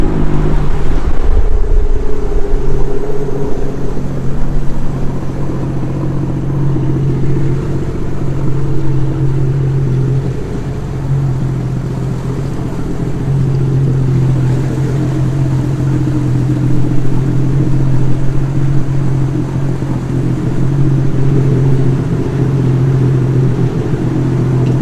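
A Sea-Doo personal watercraft engine starts with a rough burst and settles into a steady, loud, droning rumble at the water's edge, running continuously with slight shifts in pitch.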